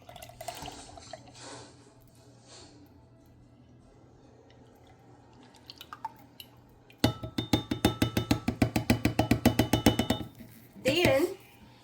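Liquid from a whole can glugging into a 4-cup measuring cup in a home kitchen while making banana pudding: quiet background and faint voices, then a few seconds of rhythmic pulsing pour, followed by a short scrape.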